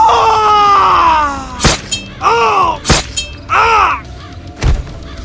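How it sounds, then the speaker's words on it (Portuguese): Agonized screams rise from enemies cut down by Conan the barbarian's sword amid thick fog, with a long wailing cry followed by sharp strikes and several shorter anguished shrieks. "Gritos agonizantes respondem ao sigilo de sua espada"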